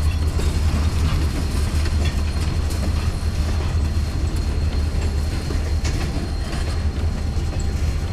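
A Pan Am freight train with a former Conrail locomotive rolls northbound past a trackside spot, a steady loud rumble with faint wheel clatter throughout and no voices.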